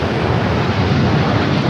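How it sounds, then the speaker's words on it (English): United Airlines Boeing 787-10 Dreamliner taking off from LAX, a loud, broad jet roar with steady rumbling, heard in a brief continuous burst. "This is United Airlines Flight 39 taking off to Tokyo Haneda on the 787-10 Dreamliner"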